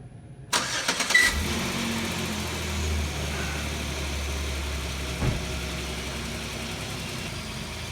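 A 3.4 liter V6 in a 2008 Chevy Equinox, with a freshly replaced serpentine belt, cranks briefly and catches, then settles into a steady, close idle that runs to the end with no talking.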